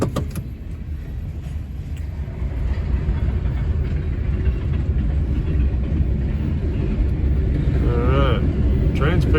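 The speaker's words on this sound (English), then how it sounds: "Train's picked up speed." A freight train rolls steadily past at close range with a continuous rumble and rattling wheels, building slightly in loudness, with a brief squeal near the end.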